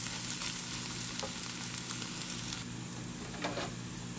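Egg bhurji stirred in a frying pan, a soft continuous sizzle with faint scraping strokes at a low level, no talking.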